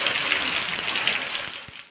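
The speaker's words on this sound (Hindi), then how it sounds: "देखो अब बारिश कितनी तेज़ हो रही है।" Heavy rain pours down steadily in a sudden downpour, a loud, dense hiss of water drumming on surfaces close by, constant throughout with no voices.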